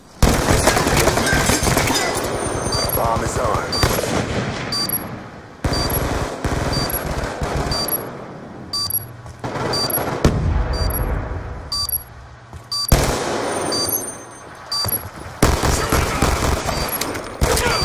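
Gunfire crackles through a shooter game's Search and Destroy match in rapid automatic bursts with short pauses between volleys. The shots are loud and close, punctuated by sharp metallic clicks.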